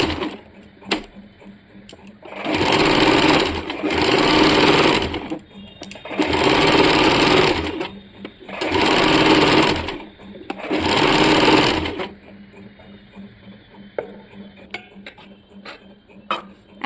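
Five close, loud runs of a sewing machine stitching a cotton fabric strip, each a steady mechanical whir of about two seconds separated by short pauses, then light handling clicks and a low hum afterward.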